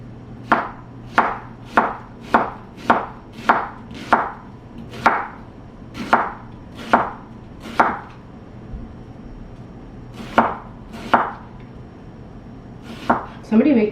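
A knife chops farmers market vegetables into slices on a cutting board, giving sharp, evenly spaced thuds in a quick run, then a pause and a few more cuts, loud and close with no one talking.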